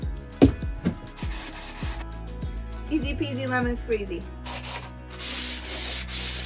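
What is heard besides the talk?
hand sanding wood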